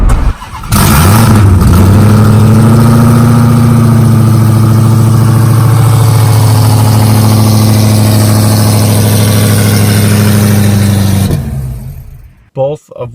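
Heavily modified Dodge Charger Hellcat at a dragway, its V8 holding a loud, steady high rev for about ten seconds close by, then dropping off abruptly, with crowd talk faintly underneath.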